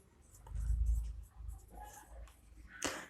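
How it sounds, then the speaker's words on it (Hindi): Numbers being written on a board, a soft scratchy scraping in short strokes with a brief louder tap near the end, fairly quiet and close, no talking. "हम यहाँ पे कुछ भी नंबर लिखते रहिए"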